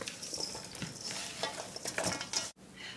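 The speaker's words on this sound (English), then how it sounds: "Sprinkle that in. Very flavorful, and we're gonna toss this all together now." Beef strips and peppers tossed with seasoning in a bowl, continuous close stirring and scraping with soft rustling clatter that ends in a brief pause.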